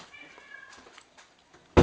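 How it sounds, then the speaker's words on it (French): A cat meows faintly indoors in a house hallway, with a thin drawn-out cry early on and a few soft murmurs, ending in a sudden loud rustling burst. "nous entendons Capucine miauler"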